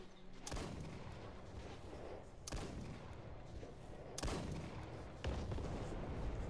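Video game gunfire plays as a few sharp, loud shots at irregular intervals over a dense, steady rumble of background game noise.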